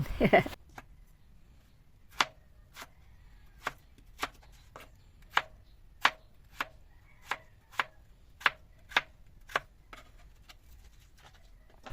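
Knife chopping sliced potatoes and carrots on a board, about fifteen crisp separate cuts at a loose, unhurried rhythm, close and distinct over a quiet background.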